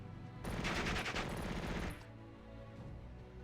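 Rapid bursts of gunfire aimed at motor rifle infantry in Steel Division 44, a WWII strategy game, heard as a dense crackling volley for over a second, then fading to a low rumble.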